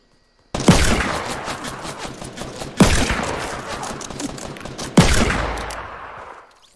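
Three separate loud bursts of rapid gunfire in Fortnite, each starting sharply and trailing off, evenly spaced about two seconds apart, with no voices over them.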